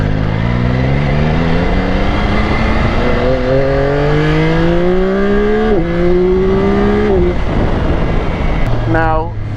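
A 2025 Yamaha R9 motorcycle engine accelerates hard through the gears, its loud, steady rising whine climbing in pitch, dropping at each shift, then climbing again before easing off near the end.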